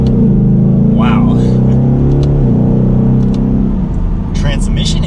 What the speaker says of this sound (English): The exhaust sounds so meaty.